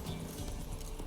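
Hooves of Roach, the horse in The Witcher 3 video game, clip-clop steadily at a gallop, close and continuous, with busy game ambience around it.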